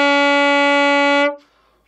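A saxophone holds one steady note with a breathy, spread airflow, sounding loud and close, alone for over a second before cutting off into a soft fading tail.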